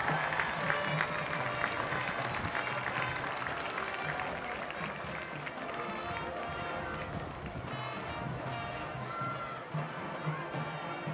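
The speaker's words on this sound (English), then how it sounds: "one more round of applause and welcome home to all of our former" Sustained applause from a homecoming crowd at a school's 50th anniversary celebration welcoming former queens, dense clapping with cheering and music mixed in, loud and continuous.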